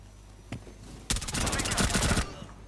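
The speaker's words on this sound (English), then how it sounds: "That was a teammate shooting through." A teammate in Rainbow Six Siege fires a rapid automatic burst, a close and loud rattling stream of shots that follows one isolated earlier crack.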